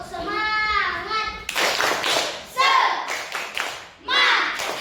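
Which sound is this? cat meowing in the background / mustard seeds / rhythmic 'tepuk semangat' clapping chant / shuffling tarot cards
rhythmic 'tepuk semangat' clapping chant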